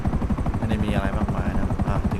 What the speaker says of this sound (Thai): ข้างในของเฮลิคอปเตอร์นะครับ